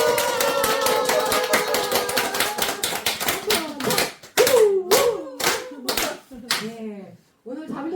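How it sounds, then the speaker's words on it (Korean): A small group of four or five people gathered for a Buddhist prayer session claps and cheers in a burst of quick, loud, irregular claps mixed with shouts, fading into scattered claps toward the end. "한번 크게 우레와 같은 환호성을 올리고 오늘의 기도를 시작하도록 하겠습니다"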